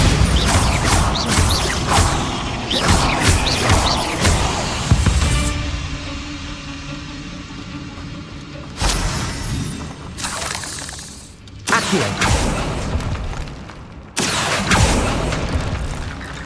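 Bombarda blasting spell explosions in the Hogwarts Legacy video game: loud, crashing booms with shattering debris arrive in several bursts, separated by quieter stretches of game ambience.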